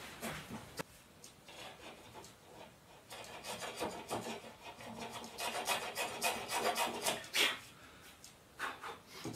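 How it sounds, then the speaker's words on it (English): Hand plane shaving material off a wooden tenon in a woodworking joint, a series of close, rasping strokes of varying length repeated across the whole span. "I've just been taking a little bit of material off there just to get it snug."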